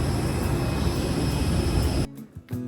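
A large passenger jet at Bangalore airport after a flight from Pune produces a loud, steady broadband engine roar that cuts off abruptly, leaving a few quieter thumps.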